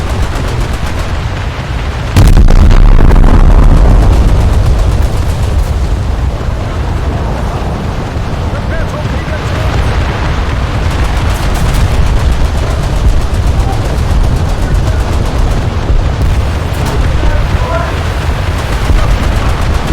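Continuous, loud naval battle in the War Thunder video game, with rapid gunfire and booming explosions around a German Leopard destroyer, including a heavy blast early on, while a voice speaks intermittently underneath.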